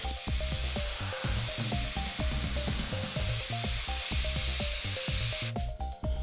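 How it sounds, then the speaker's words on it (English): An Aztek A470 double-action airbrush sprays flat gull grey paint thinned with a little thinners, giving a steady close hiss with a rhythmic mechanical pulsing underneath that cuts off abruptly near the end. "We're going to connect it up and spray."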